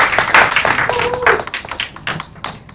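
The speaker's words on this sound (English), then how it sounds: "Please use your hands to make a beautiful applause for them." A conference meetup audience gives scattered, uneven applause, with light individual claps rather than a dense ovation and a few faint voices mixed in.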